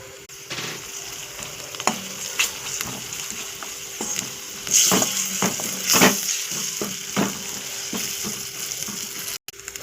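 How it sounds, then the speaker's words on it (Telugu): Ginger paste and turmeric are stirred in a frying pan with curry leaves, giving a steady sizzle of frying broken by a spoon scraping and knocking against the pan in repeated strokes, close and moderately loud with no talk. "కొంచెం అల్లం పేస్ట్, కొంచెం పసుపు వేసుకొని కలుపుకోవాలి."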